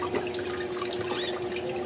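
Tap water running and splashing in a sink while a bottle gourd is washed by hand, a steady close trickle with small drips and splashes throughout.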